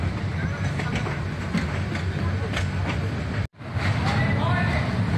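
The Cox's Bazar Express running at night after leaving Dhaka Kamalapur, a steady rumble and rattle of the carriages with faint rhythmic clatter, heard from inside, with one sharp brief dropout partway.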